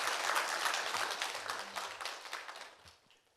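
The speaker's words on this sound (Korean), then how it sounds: "여러분 큰 박수로 맞이해 주십시오." A forum audience on child-care policy in Daejeon claps to welcome a parent representative to the stage, a full rattle of hands that thins out and dies away near the end.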